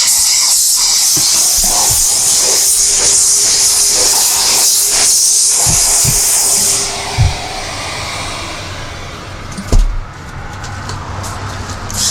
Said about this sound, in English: It's steaming and it's nice and warm.